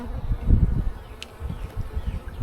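Honey bees hum in a low, steady drone during a spring hive inspection, with denser swells of buzzing rising and falling close by and no voices.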